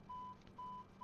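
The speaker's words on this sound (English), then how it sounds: "what is beeping at me? Stop beeping!" Warning beeps sound in an Airbus A321 cockpit in Microsoft Flight Simulator 2020 during APU start: three steady electronic tones at even intervals, each held for a moment, over a low cabin hum.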